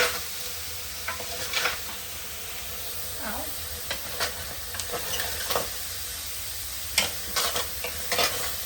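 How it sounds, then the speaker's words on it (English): Onion and meat dry-fry in a hot pan, a steady hiss and sizzle broken by repeated stirring scrapes and bursts of crackle throughout. "they call it like dry fry"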